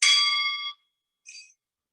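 A meditation bell struck once at the start of a yoga session rings out clearly and fades over under a second, followed by a shorter, softer ring; no talking.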